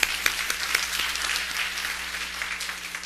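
Church congregation applauding the choir, a dense, even round of clapping filling the hall for about three seconds, with a low steady hum beneath it.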